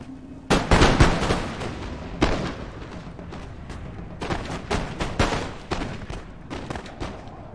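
Musket volleys crack out in Napoleon: Total War as lines of Napoleonic infantry fire, a loud ragged burst followed by scattered sharp shots and rolling booms of varying distance.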